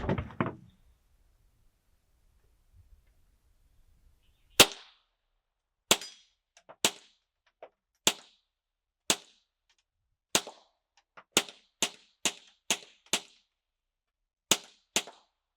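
Suppressed .22 rounds fired through a Next Level Armament NLS 22 Varmint suppressor give sharp, dry snaps, about a dozen spaced shots with short quick runs, each crisp and brief over near silence.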